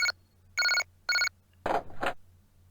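Electronic phone ringtone in the Japanese horror video game Maria: three loud, evenly spaced bursts of bright chiming rings, followed by a short rustling clatter like a handset being picked up.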